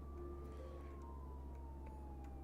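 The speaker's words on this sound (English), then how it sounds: "As a real siren goes past my house." An emergency siren passes a house, its wailing tone sliding slowly downward, moderately distant over a low steady rumble, with no talking.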